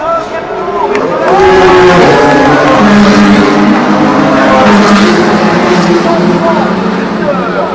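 Toyota race cars at the 2016 24 Hours of Le Mans roar past steadily, engine tones rising and falling over a loud crowd and excited commentary.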